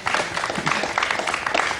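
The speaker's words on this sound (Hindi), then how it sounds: "लोग ताली बजा के कह रहे हैं कि वास्तव में ये बड़ी समस्या है" A brief burst of dense audience clapping fills the room, many hands together, loud and steady with no pause.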